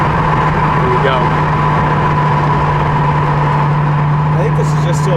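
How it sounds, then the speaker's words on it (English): A 1976 Pontiac Firebird cruises at highway speed, its engine droning steadily up close over road noise as it shifts into third gear, with someone talking over the sound inside the car. "72, 74 shifts into third gear when you're all the way down the road"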